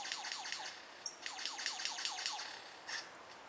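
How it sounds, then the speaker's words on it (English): Lyrebird calling in the wild near a log and large termite mound, a rapid series of descending whistled notes and chirps repeating in quick bursts, fairly faint at moderate distance, no voices. "Here we are communicating with lyre birds."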